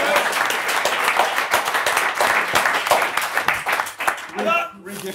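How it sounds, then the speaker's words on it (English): Small audience giving a round of applause, loose uneven clapping with distinct individual claps that fades near the end as a voice starts talking. "Round of applause."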